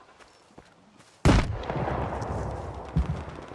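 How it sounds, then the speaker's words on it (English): A loud burst of gunfire in the video game Stalker 2 erupts suddenly, followed by sustained rumbling shots and another sharp report near the end, with a brief word spoken early on. "I hear gunfire somewhere."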